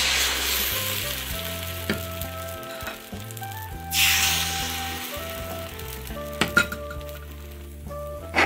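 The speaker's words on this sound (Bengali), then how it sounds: "এখন আমি চিতই ব্যাটারটা দিয়ে দিচ্ছি।" Rice batter for milk chitoi pitha hits a hot pan and sizzles loudly, with a few sharp clinks of utensils and pan over a steady frying hiss, no voices.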